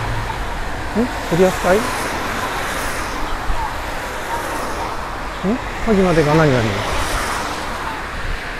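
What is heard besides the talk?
road noise of passing cars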